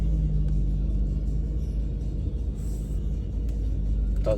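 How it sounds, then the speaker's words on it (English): Deep, steady exhaust rumble from a 2018 Audi RS5 coupé with the 2.9 V6 twin-turbo engine and valved sport exhaust, idling or cruising close by with a low, continuous burble. "let's just make sure the valves are open, and then yeah, do get a few cracks and pops there"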